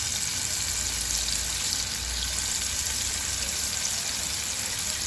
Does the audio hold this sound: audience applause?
no